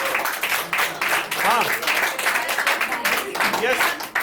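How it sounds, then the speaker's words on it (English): Audience giving a round of applause after a question-and-answer session, loud, fairly close clapping with rhythmic bursts and some voices mixed in. "Give a huge round of applause for everyone."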